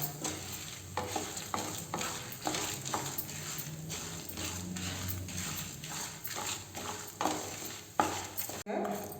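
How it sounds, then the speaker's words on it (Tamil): Lentils and curry leaves dry-roasting on a low flame in a pan, with repeated scraping stirs and a soft, crackly sizzle at an even rhythm, fairly quiet and close, without talking. "இப்போ இதை சிம்லேயே நல்லா வறுபடட்டுங்க"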